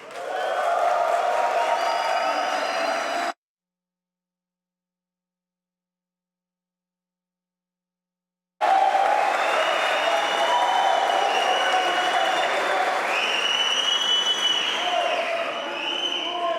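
An audience at a medal ceremony in a council chamber claps and cheers loudly with whoops, the sound cutting out abruptly to silence for several seconds before resuming just as strongly.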